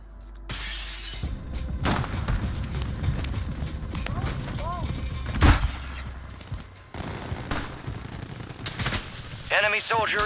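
Gunfire in a Call of Duty Modern Warfare / Warzone 2.0 battle, with sharp bursts and single shots cracking through a busy game mix, including one loud blast midway, while players talk over it.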